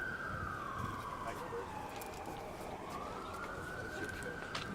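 A wailing siren rises and falls steadily, sounding some distance away from a legislative hearing room, with a faint background murmur beneath it.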